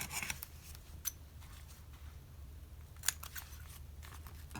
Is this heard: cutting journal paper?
yes